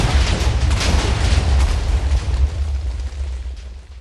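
A loud video-game explosion bursts at once into a deep rumbling boom, with crackling debris that slowly fades over a few seconds.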